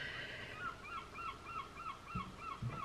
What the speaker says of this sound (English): Still got all the windows open, so the seagulls are having a chat